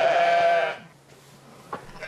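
A single loud sheep bleat rings out close by on a farm, held for under a second, followed by quiet ambience and a faint bump.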